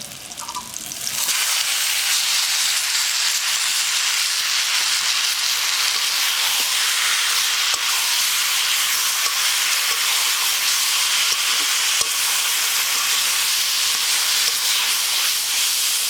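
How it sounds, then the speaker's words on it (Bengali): Boiled taro leaves dropped into hot oil with fried garlic, village style, burst into a loud, steady hiss that starts abruptly and holds unbroken for the rest of the stretch. "এখন সিদ্ধ করা কচু শাকগুলো দিয়ে দেবো।"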